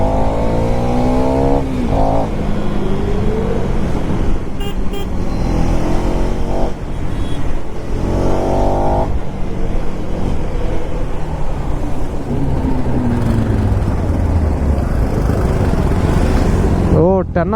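A Kawasaki ZX-10R sport motorcycle rides through Bangalore traffic at night. Its engine is loud and close, rising and falling through repeated revving sweeps over steady road and wind noise.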